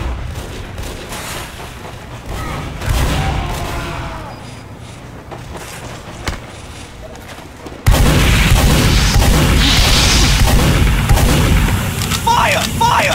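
Iron bomber grenades blast in Team Fortress 2 on the 2Fort map, loud booming explosions and gunfire over constant game noise, with a sudden jump to heavier, denser combat sound midway through.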